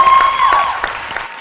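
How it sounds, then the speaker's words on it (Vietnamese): Audience applause at the finale of a televised street dance competition, a dense, steady patter of clapping with light crowd noise filling the hall, fairly loud and continuous. "Một tràng pháo tay nồng nhiệt"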